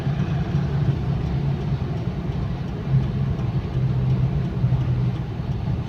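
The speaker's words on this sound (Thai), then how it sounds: "เนี่ยขับรถใต้สะพานครับ" A car engine hums steadily from inside the vehicle while driving under a bridge, a continuous low rumble that echoes slightly.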